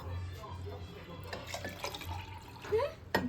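Water is poured into a glass for homemade lemonade, a soft trickling fill with splashy bursts, heard close and fairly faint while people talk.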